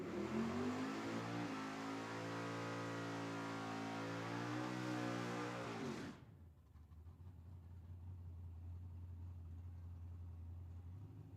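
A wheelstander drag car runs down the Tucson dragway on its back wheels, its engine roaring loud and harmonic-rich for about six seconds before cutting off abruptly, leaving a low steady rumble behind.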